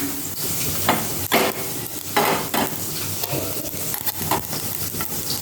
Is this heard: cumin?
yes